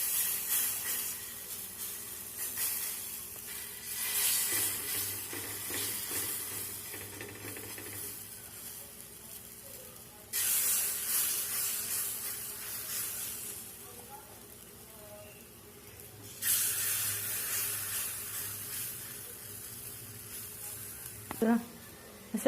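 Oil sizzling in a pan, a faint, steady hiss that swells and drops in several stretches, heard under someone talking nearby.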